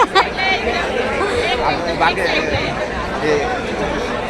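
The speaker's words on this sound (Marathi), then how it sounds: "बापरे कसली गर्दी यार" Crowd at the entrance of a busy water park in Lonavala during bag checking, a dense babble of many voices near and far, with a nearby speaker talking over the steady hubbub.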